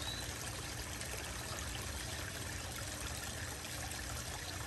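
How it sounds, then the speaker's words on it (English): A high-pressure garden hose refilling a koi pond outdoors gives a steady, even rush of water with a broad hissing wash that stays constant throughout, fairly quiet and uninterrupted, with no voices. "I'll go ahead and finish the water refill."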